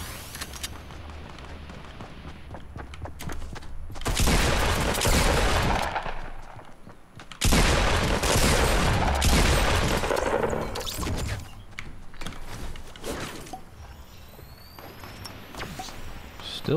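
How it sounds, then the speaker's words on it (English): Gunfire in Fortnite Battle Royale, rapid bursts of automatic shots coming in two loud dense volleys, then scattered sharper shots, with game ambience between. "Still people up there shooting?"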